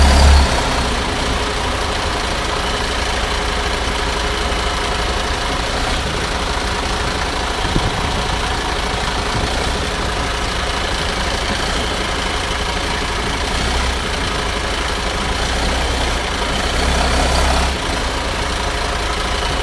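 MAN RR4 26.480 truck chassis engine running steadily while driving, a continuous loud low rumble with little variation throughout, no talking.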